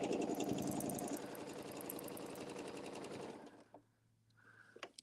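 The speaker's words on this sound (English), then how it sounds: "I'm going to stitch forward a few and back a few." Sewing machine stitching forward and back across a quilt-as-you-go placemat, a fast steady mechanical whir for about three seconds before it stops, followed by faint handling sounds.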